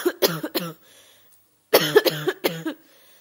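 A narrator reading an Indonesian novel performs a character's coughing: two close groups of short, harsh coughs separated by a second of silence, near and clear with no other speech.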